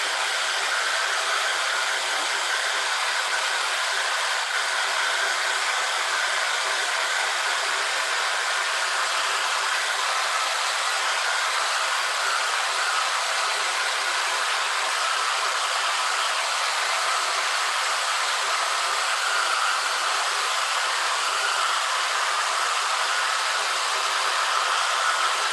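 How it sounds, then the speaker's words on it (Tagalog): Steady, loud hair dryer blowing over a watercolor painting, a continuous broadband rush of air with an even motor hum that holds unchanged from start to finish with no talking. "Pwede kong gamitan ng hair dryer para matulungan siya."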